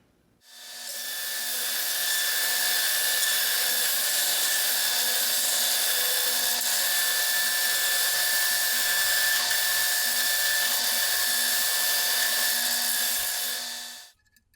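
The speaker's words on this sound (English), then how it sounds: "within this last inch, I'm just going to sand that down to a pretty small point on the edge." Power sander grinding down the last inch of a wooden part to a small point on its edge in a coach shop, a steady, loud, high-pitched whine running continuously for about thirteen seconds, with no voices.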